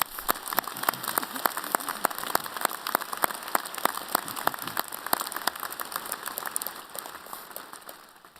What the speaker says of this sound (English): Let's give these wonderful professors a round of applause.